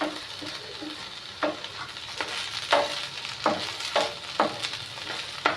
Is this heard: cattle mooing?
no